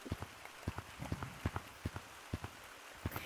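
Rain from a small cloud in the video game Gorilla Tag patters down in distinct, fairly regular drops over a soft hiss, close by and moderately quiet.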